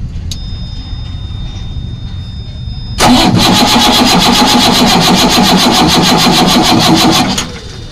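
The starter cranks the diesel engine of a JCB 432ZX loader with a fuel airlock starting problem in a loud, fast, rhythmic chug that lasts about four seconds and then drops back to a quieter background.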